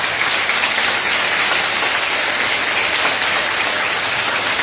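Dense, sustained audience applause filling the room for a speaker after a talk, a loud, even wash of many hands clapping with no pause.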